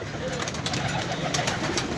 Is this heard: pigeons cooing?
yes